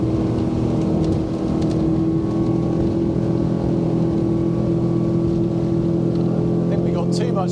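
A Rand Leisure 28 V8 sportsboat running at about 30 knots on open water, its engine drone loud, steady and close throughout with constant wind and water rush, and a voice talking over it.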